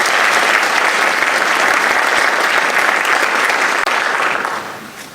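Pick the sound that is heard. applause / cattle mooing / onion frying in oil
applause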